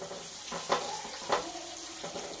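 Bitter gourd frying in oil in a pan, with a steady low sizzle broken by a few scraping stirs of a utensil, close and moderately quiet, no voices.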